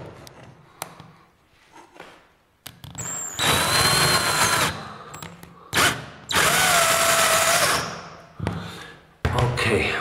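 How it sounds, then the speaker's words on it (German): A power drill drives screws into OSB 3 boards while laying flooring, with several loud whirring bursts of a few seconds each, separated by thumps and quieter handling noise. "Dann schrauben wir mal fest."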